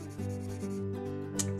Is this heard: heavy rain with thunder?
no